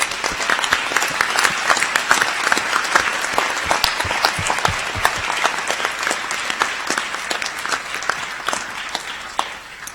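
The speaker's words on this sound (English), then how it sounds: "round of applause." A university graduation ceremony audience gives a round of applause, a loud, dense clatter of many hands clapping steadily in a hall, with sharp individual claps standing out, tapering slightly at the end.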